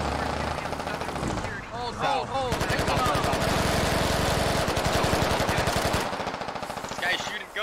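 Sustained automatic gunfire in the military shooter Squad, a long close burst of rapid shots after scattered single cracks, with voices talking over parts of it.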